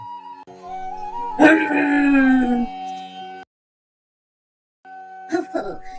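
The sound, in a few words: pack of dogs howling and yelping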